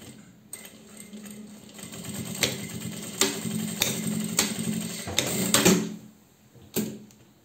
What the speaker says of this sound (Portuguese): E vou fazer essa costurinha